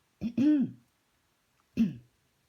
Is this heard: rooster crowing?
no